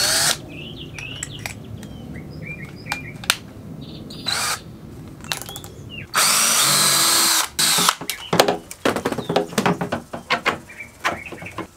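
A power drill with a 3/8 bit boring holes for bolts on a jon boat trailer guide: short whirring bursts and one long steady run, with clicks, handling knocks and outdoor bird chirps between.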